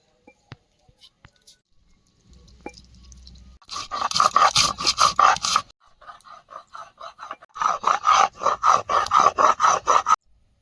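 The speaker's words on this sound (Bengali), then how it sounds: "শুধু গোলমরিচ বেটে নেব শিলে" Black pepper ground by hand on a stone slab (shil) in a Sundarbans kitchen: close, rhythmic rasping strokes in two long bursts after a brief quiet start.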